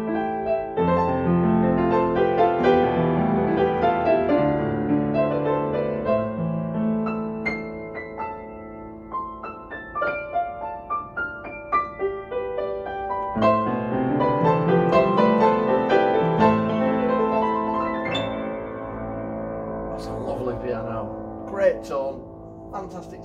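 A refurbished Yamaha U3 upright piano plays alone, with full chords and melodic runs sustaining and ringing through a continuous passage with gentle swells in volume.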